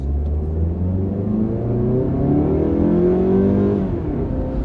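A car engine rumbles steadily while driving, its pitch climbing smoothly under acceleration before dropping briefly as a gear change comes near the end.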